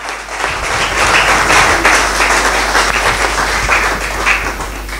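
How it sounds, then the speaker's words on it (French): A church congregation claps and cheers at a sermon, dense sustained applause filling the room at full volume, steady throughout with no break. "Acclamez pour la parole."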